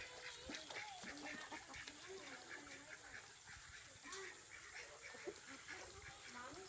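Ducks by a creek quacking repeatedly in an irregular, overlapping chorus, fairly faint and distant against a background hiss, with people's voices faintly mixed in.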